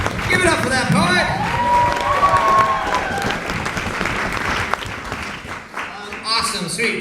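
Audience applauding a poet at a poetry slam final at a writers festival, a dense, sustained wash of clapping with some crowd noise that fades toward the end.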